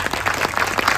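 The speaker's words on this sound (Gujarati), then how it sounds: "આઈ થિંક એમને આપણે તાળીઓથી વધારવા જોઈએ." Brief burst of audience clapping at a Gujarati film premiere night, a dense patter of hands close by lasting about a second.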